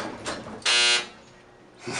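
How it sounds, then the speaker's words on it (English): An old Otis traction elevator in a bank building sounds its buzzer once, a short, loud, harsh buzz lasting about a third of a second over low background hum. "Oh man, that's an old buzzer, eh?"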